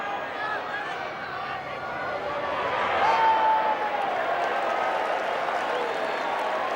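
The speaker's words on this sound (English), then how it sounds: "Crowd applauding there" Crowd applause and cheering at a 1994 rugby league match between Manly Sea Eagles and Canterbury Bulldogs, a broad steady roar that swells midway and holds, heard under a commentator's voice.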